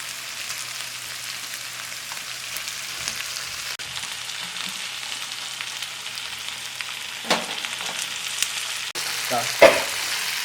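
Paneer tossed with onion and capsicum sizzles in a hot pan for a restaurant-style dry chilli paneer, a steady frying hiss broken by occasional stirring scrapes and a sharper clatter near the end. No voices.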